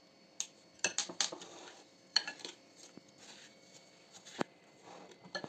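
A spoon clinks and scrapes against a bowl in irregular taps while butter, sugar and egg are stirred together, quiet and close.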